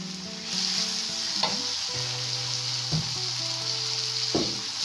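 Onion and tomato paste sizzle steadily in a hot pan, with a few sharp clacks of a spoon stirring against the metal at intervals; nobody speaks.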